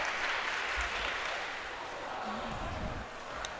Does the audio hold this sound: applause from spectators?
yes